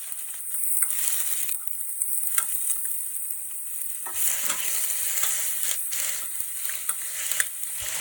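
Onions and chopped carrot fry in a pan for onion potato poori curry, with a steady sizzle and several stirring scrapes, close and alone.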